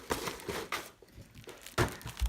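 Crinkling and tearing of a Paper Pumpkin craft kit's packaging, with bursts of crumpling plastic and paper in short handled rustles, fairly close.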